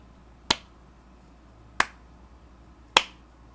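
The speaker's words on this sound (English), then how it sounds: "You hear a slow clap" Three slow, sharp claps ring out alone in a quiet room, spaced evenly more than a second apart, each a crisp close snap that fades quickly.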